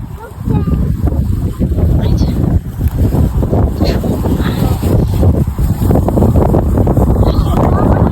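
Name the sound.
wind blowing in a field in Belgium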